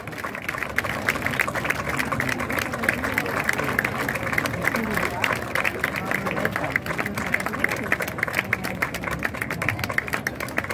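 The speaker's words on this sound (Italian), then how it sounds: "Ancora un applauso per questi bellissimi e bravissimi ragazzi." An audience applauds steadily after a vintage fashion show in Imperia. The dense, continuous clapping lasts throughout, and a voice speaks clearly over it.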